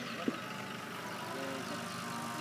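A farm tractor engine runs steadily with its power take-off turning at about 540 rpm, giving a constant mechanical drone with one brief knock near the start.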